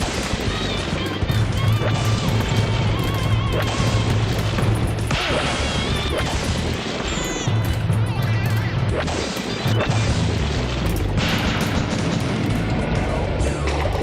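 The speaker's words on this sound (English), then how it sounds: "So many different kinds of explosions." A pinball-style arcade game sets off a dense, loud run of varied explosions, crashes and booms that overlap in quick succession on top of constant electronic game noise.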